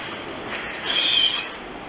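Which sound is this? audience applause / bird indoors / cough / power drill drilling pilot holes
bird indoors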